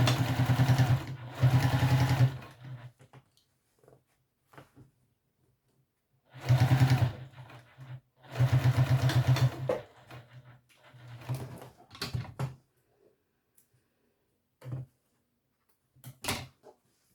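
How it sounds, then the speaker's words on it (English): A sewing machine stitches fabric pieces right sides together with a short stitch length, running in several loud bursts of a few seconds each, separated by quiet pauses and small handling clicks. "we'll sew down with our smaller stitch length to attach these together"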